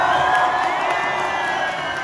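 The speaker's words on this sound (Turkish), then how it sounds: "Deniz Kanak hocam bir alkış alabilir miyiz?" A large concert crowd cheers and shouts in a dense, continuous roar with high whistles, loud and sustained for a short burst.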